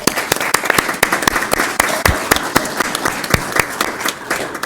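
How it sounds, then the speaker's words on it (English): Audience applause at a school district governing board meeting, with steady crowd clapping and sharp individual claps standing out, held at a moderate level for almost five seconds. "if we can give them one more round of applause"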